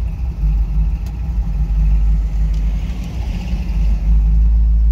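A car rumbles and pulls away at a drag strip, a deep steady engine drone with low rumble, fairly loud and continuous with no talking.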